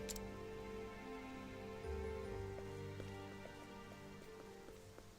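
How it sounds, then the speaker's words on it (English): Steady soft rain falls on surfaces in the Octopath Traveler 2 video game, a constant patter beneath low sustained background music tones, with no talking. "The rain's returning to normal."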